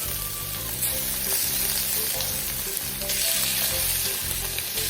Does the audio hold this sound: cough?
no